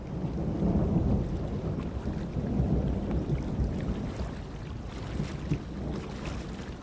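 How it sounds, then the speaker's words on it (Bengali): Steady low rumbling wash of water and wind around a wooden boat being rowed on a river under a darkening sky, continuous and fairly loud with no voices. "আমি নৌকা বাইছি প্রায় ঘণ্টাখানেক সময় ধরে।"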